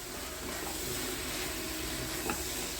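Broad beans sautéing in a pan, a soft, low sizzle and frying hiss with faint stirring, heard alone at a modest level.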